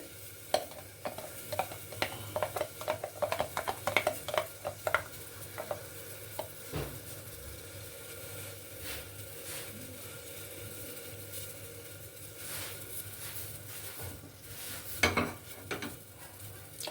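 Ghee heats in a hot pressure cooker for mutton rezala, a soft continuous sizzle with a run of metal clinks and taps from utensils early on and again near the end.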